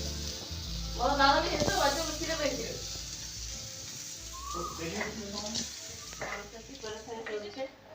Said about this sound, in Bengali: এদিকে করলা ভাজা হচ্ছে